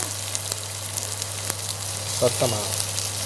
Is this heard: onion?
yes